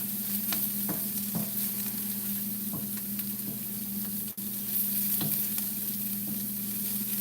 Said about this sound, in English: we're sautéing them